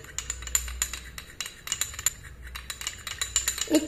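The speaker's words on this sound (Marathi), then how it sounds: "आणि हे छान मिक्स करून घ्यायचे आहे" A spoon scrapes and clinks against a bowl while aloe vera gel is stirred into a homemade night cream, producing quick irregular metallic taps and scrapes close up, with no talking.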